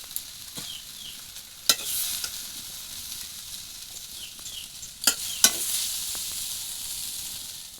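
Onion flower fritters fry in hot oil, a soft, fairly quiet hiss with a few sudden brighter bursts of sizzling as the pieces are moved, close by and free of talk.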